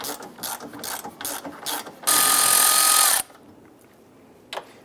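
A ratchet with a 10mm socket loosens an upper bolt on a 2002-2008 Dodge RAM during A/C condenser removal, quick close clicking bursts, then a loud continuous whirring run of about a second, followed by near quiet and one last click.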